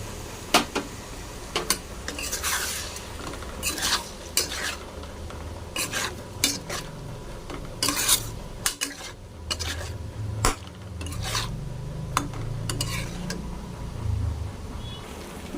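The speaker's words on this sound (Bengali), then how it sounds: "মশলাটা কষানো হয়ে গেছে" Spices for a paneer and potato curry stir-fried in a pan: repeated scraping and rasping strokes of a spatula over a low sizzle, with a continuous close, steady rhythm and no speech.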